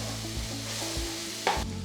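Tomatoes sauté in a pan for dhaba-style paneer masala: a steady close sizzle with a few scraping stirs of a spatula and a sharper clack near the end, no voices.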